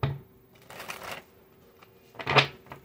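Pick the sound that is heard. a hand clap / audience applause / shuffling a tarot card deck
shuffling a tarot card deck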